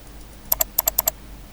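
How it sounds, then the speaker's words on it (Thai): Six crisp keystrokes on a computer keyboard entering numbers, quick close clicks in two pairs and a pair, alone over a faint low hum. "พิมพ์เลข 23 ลงไป"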